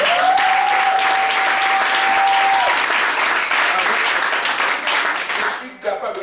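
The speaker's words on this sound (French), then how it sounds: "On va l'acclamer." A church congregation applauds and cheers loudly and continuously, with voices rising through the dense clapping before it thins near the end.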